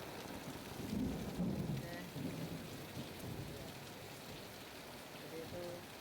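Heavy rain pours steadily on a flooded residential street in Jatikramat, Bekasi, a dense continuous hiss with low rumbling underneath, and a voice speaks briefly over it.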